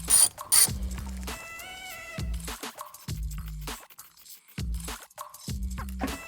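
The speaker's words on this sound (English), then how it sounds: "Now these screws will come all the way out" Torx bit backing screws out of interior trim in a MINI Cooper GP3, heard as several short bursts of close mechanical ratcheting and whirring separated by pauses.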